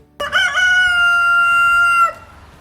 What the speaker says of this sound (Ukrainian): Давайте разом передивимось невеличке відео, як кукурікає півник.